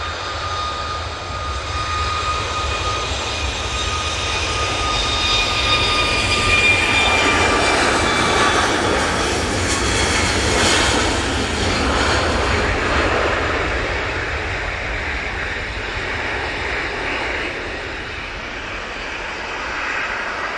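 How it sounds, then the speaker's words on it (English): A TUI Boeing 737 MAX jet on its takeoff roll at Manchester Airport gives a sustained, broad engine roar with a high whine that slides downward, swelling and then easing over about twenty seconds, heard alone at a moderate distance. "Tui Max on the roll."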